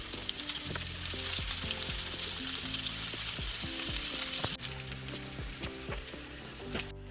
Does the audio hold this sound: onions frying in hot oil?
yes